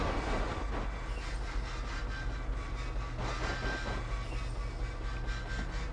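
A train in motion rumbles steadily at close range for the whole stretch, a low continuous roar with faint rhythmic rattling and no talk.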